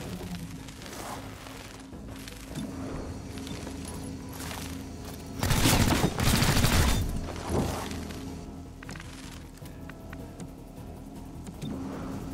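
Gunfire in XCOM: Chimera Squad, a loud dense burst of shots and impacts in the middle over ongoing game ambience, with quieter thumps before and after.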